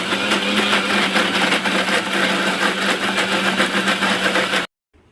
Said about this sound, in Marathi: बारीक वाटून घेऊया।